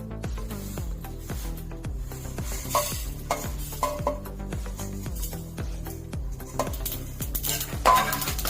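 Whole spices dry-roasting in a pan for an egg pulusu masala paste, with a spatula scraping and stirring in a steady rhythm over a soft sizzle, close and with no voices.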